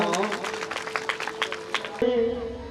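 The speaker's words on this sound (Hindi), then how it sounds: "इनके लिए सभी जोरदार तालियां बजाएंगे।" Moderate clapping from a crowd at a Hindi Bhagavat katha religious gathering, uneven and fairly close for about two seconds, with a sustained musical tone beneath that continues after the clapping stops.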